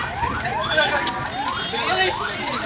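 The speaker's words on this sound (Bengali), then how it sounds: "এখানে পুলিশের গাড়ি যেতেছে কেন" A police car's repeating wailing siren sweeps up and down steadily, fairly loud and continuous, passing close by near a market.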